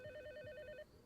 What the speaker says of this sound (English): Oh, there we go, there's a phone.